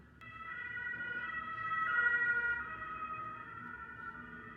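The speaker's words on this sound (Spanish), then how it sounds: "Que viene ambulancia." An ambulance siren passes at a distance, its wailing tone swelling to a peak midway and then fading, heard alone without talk.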